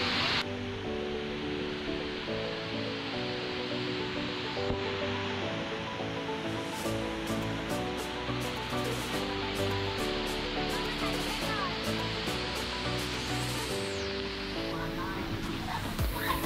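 Waterfall beside a mountain café in Thailand, a steady broadband rush of falling water that runs unbroken throughout, with someone talking over it.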